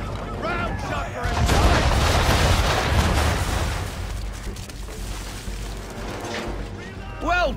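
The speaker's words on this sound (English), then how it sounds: "Bring around broadside, and when all guns are on target, call fire." Round shot cannon fire from a ship in Assassin's Creed III, a dense rolling barrage of heavy booms swelling and then tailing off into rumble, with a voice speaking over it.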